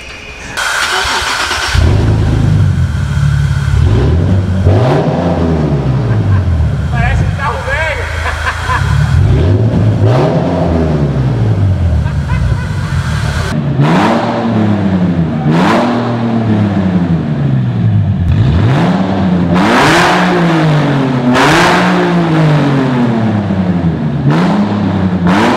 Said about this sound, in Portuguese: Ficou parecendo um V8 esse motor, muito estranho.